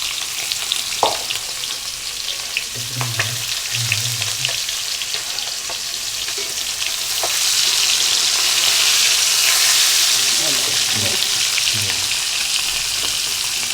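Eight eggs frying in hot oil in a pan for a potato and egg curry, with a steady loud sizzle, several soft stirring knocks and scrapes, and the hiss swelling in the second half, with no talk.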